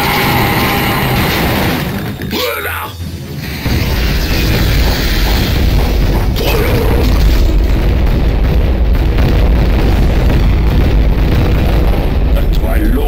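A nuclear weapon detonates in the Shadow Warrior video game, a loud sustained booming roar that briefly dips and then swells into a dense, continuous rumble lasting many seconds.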